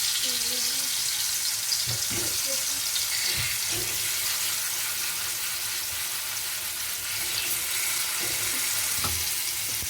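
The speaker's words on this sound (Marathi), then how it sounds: "तेल आता गरम झालं आहे, थोडं गॅस स्लो करूया। बटाटे यामध्ये घालायचे।" Potatoes going into hot oil for egg biryani and frying on lowered heat, a loud, steady sizzling hiss throughout with scattered clunks of stirring and a voice briefly speaking under it.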